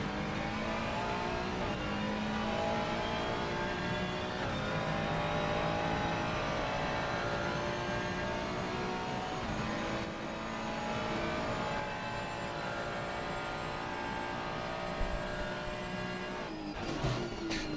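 A GT3 race car engine howls through qualifying at the Circuit of the Americas in Texas, a sustained high-revving roar with rising gear sweeps and brief shift breaks, loud and continuous with no talk.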